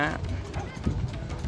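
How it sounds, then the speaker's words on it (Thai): Horse hooves clip-clopping along a street in India, a few close hoof strikes mixed with voices and general street bustle. "ก็จะมีม้า"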